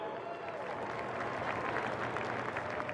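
An audience applauds a student being honored at a state football championship event, steady dense clapping filling the whole stretch, loud and continuous with a crowd murmur underneath.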